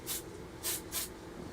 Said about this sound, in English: and I'll spray paint this one black.